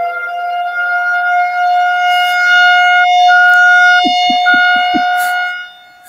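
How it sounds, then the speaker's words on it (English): A steady, sustained siren wail with layered tonal harmonics holds throughout, with a few short low thumps near the end. "I'm hearing Almighty's freaking siren."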